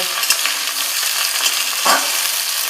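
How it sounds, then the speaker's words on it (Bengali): Potatoes, capsicum and green beans frying together with a spoonful of salt, a steady dense sizzle with stirring scrapes, one louder burst near the end, no talking. "এক চামচ নুন দিয়ে আমি ভেজে নেব"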